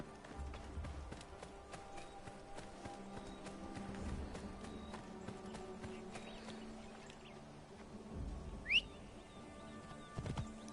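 Horse hooves in the Assassin's Creed Origins game, a soft steady run of clip-clop footfalls at low level, with a whistle and bird calls faintly over it.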